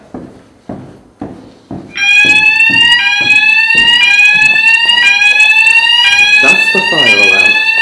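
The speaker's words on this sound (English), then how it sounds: "That's the fire alarm." An indoor fire alarm goes off loudly, a sustained shrill warbling tone near at hand, preceded by a few sharp knocks and continuing without pause.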